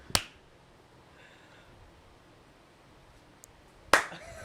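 Two sharp single hand claps made to sync a podcast recording, one at the start and one near the end, with near silence between them and no talk.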